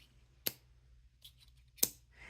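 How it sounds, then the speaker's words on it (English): Cap of a Diplomat Viper fountain pen snapping shut, two short, sharp clicks about a second and a half apart, close and distinct over a quiet background, with a soft suction-like pop rather than a magnetic clack. "it almost feels like a suction kind of sound instead of the two clicking of two magnets"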